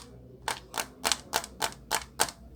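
Chess pieces are tapped on a chess board up close, making seven crisp, evenly spaced clicks in a steady rhythm. No one speaks.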